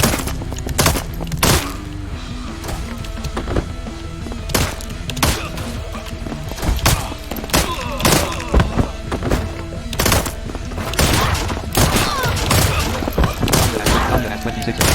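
Gunfire in the Scarlet Shel video game, a rapid series of sharp, loud shots in uneven bursts across the whole stretch, some thudding impacts mixed in.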